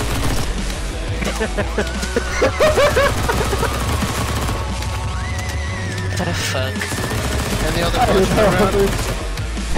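Rapid bursts of gunfire from the online shooter game GFL crackle through the mix alongside game effects, while players shout and talk over the action throughout.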